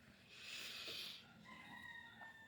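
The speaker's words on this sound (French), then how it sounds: "Et c'est bon, la poule, on a entendu." A hen gives a loud drawn-out squawking cluck followed by a few softer clucks, close by and alone.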